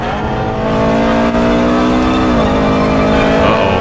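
A BMW M3 track car's engine climbs hard under full throttle, loud and close, its rising tone dipping briefly at a shift before pulling upward again.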